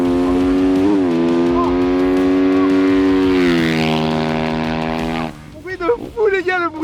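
Mercedes-AMG GT engine revving near the rev limiter while drifting, a loud sustained high-pitched roar that holds steady and then drops away, followed by excited voices talking.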